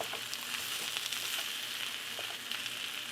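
Sausage fries in a hot skillet with a dense, continuous crackling sizzle, punctuated by faint clicks of stirring, close and without talk.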